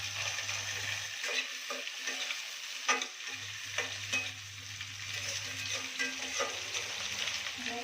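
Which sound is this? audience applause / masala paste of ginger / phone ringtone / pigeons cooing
masala paste of ginger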